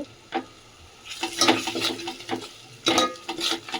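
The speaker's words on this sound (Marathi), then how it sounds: "सर्व मिक्स करून घेऊया मस्त." Spoon scraping and stirring a tomato and spice masala in a metal pan for dal, with irregular clinks and scrapes, a couple of louder strokes near the end, and a light sizzle underneath.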